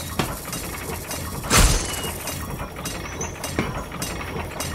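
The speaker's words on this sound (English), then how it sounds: "Conveyor belt. I'm gonna ride it to the end." Mechanical clatter from a conveyor belt in the Tomb Hunter video game: a steady ratcheting, gear-like rattle with periodic clunks and one louder thump, close and continuous.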